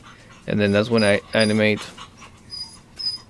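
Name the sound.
dog panting and whimpering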